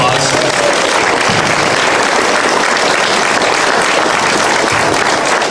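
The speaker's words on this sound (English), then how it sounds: "give everyone up here another round of applause" Loud, dense applause from an audience at a Stevens County candidates' event, continuous heavy clapping filling the whole stretch without a break.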